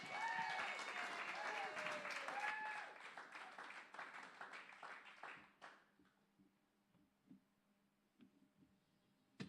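Live pub crowd at The Bedford applauding and cheering as a singer comes on, loud at first then fading to scattered claps and quiet murmurs.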